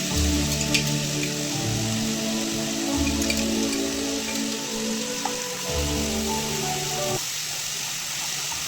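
Chilli, turmeric and salt fry in hot oil for a Bengali-style tilapia curry, giving a steady dense sizzle with crackling pops. A low tonal hum runs underneath and cuts off near the end.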